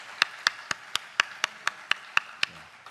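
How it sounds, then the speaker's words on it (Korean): A single person clapping in an evenly spaced rhythm, about ten sharp claps in a row, close and clear over a quiet room, in place of an audience's applause. "박수하겠습니다."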